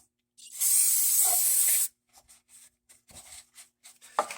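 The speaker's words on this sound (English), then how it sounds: "Get you some carb cleaner. Just get in here and start spraying it all down." A loud, close burst of carb cleaner spray lasts about a second and a half on the valve cover of a 2011 Chevy Equinox engine, followed by faint scraping and handling noises.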